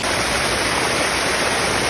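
Stream water pours into a pipe in a steady, loud, close rushing hiss, continuous and unbroken with no voices.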